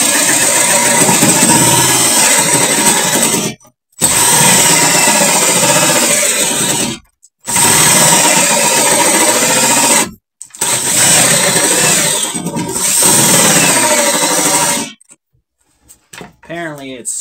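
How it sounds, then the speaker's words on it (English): A drill turns a Forstner bit through wood while making an ice fishing tip-up board, running loud and close in four long sustained bursts separated by short silent pauses. "I'm going to turn my Forstner bit"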